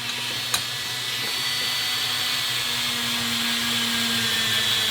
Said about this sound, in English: we're polishing the top of this